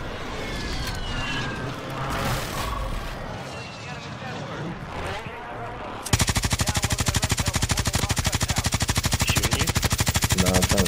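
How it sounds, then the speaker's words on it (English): Gunfire in Call of Duty Warzone, with scattered shots under a player's voice at first, then a loud, rapid, steady burst of automatic fire that fills the second half. "he's shooting me now"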